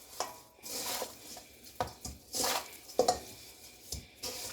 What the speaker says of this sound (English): just get in there with your hands and mix them up